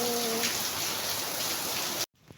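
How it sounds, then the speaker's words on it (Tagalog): Steady rain pours down with a dense hiss, then cuts off abruptly near the end. "buti tayo nabutan ng ulan"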